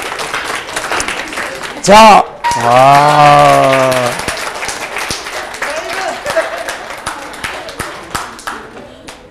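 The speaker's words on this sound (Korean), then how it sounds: "와 박수" Audience clapping at a Korean traditional music performance in Sweden, a burst of applause and rhythmic claps mixed with a sung or called tone and talk over it.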